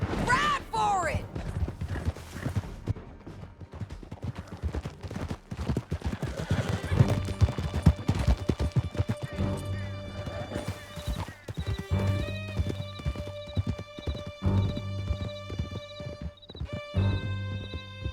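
Horses gallop in Red Dead Redemption 2 with steady, rapid hoofbeats, neighing and whinnying, under loud talk, shouting and a game music score.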